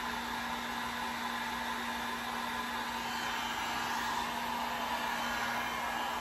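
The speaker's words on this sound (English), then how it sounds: "Don't keep your heat gun too close if you are going to use a blow dryer or a heat gun." A heat gun or blow dryer drying a coat of paint on a DIY coffee bar tray, blowing as a steady, even rushing hiss with a constant motor hum throughout.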